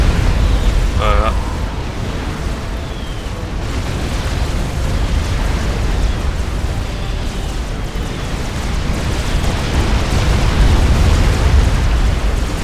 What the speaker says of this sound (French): quand une unité de commandement explose, est détruite plutôt. Ça fait ça.